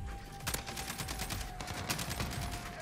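Rapid automatic fire from a SCAR rifle in a first-person shooter game, a dense continuous burst of loud, close gunshots sustained throughout with sharper cracks standing out.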